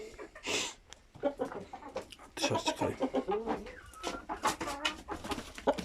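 A young Shamo rooster with hen-like feathering clucks repeatedly in a garden, a run of short, close, throaty calls with brief gaps, other fowl faintly around it.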